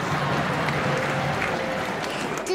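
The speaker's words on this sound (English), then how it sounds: "Clap for yourself." A church congregation claps together in a dense, continuous wash of applause that fills the whole moment at steady volume, with faint voices mixed in.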